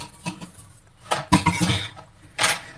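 Dishes, pots and cutlery clink and clatter at a kitchen sink during washing, with scattered sharp knocks and scraping bursts and quieter gaps between them, and no voices.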